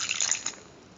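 Water poured into wheat flour for dough gives a brief, light splashing trickle that fades after half a second into quiet.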